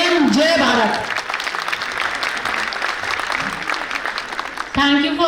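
Audience applause fills a school annual function stage event, a steady crowd clapping with voices talking over it at the start and end.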